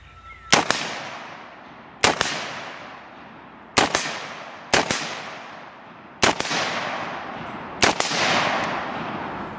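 An FN SCAR 16S rifle fires 55 grain Winchester rounds, six sharp, loud cracks spaced about one to two seconds apart, each ringing out with a decaying echo across an outdoor range.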